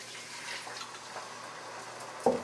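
Water pours into a pot of buttered rice, giving a soft continuous hiss and sizzle that is fairly quiet throughout, ending in a brief louder clunk.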